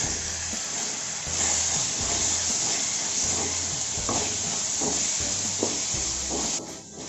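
Masala, carrots and vegetables sautéing in a pan for prawn Maggi: a constant loud sizzle with repeated scraping strokes of the spatula, fairly close.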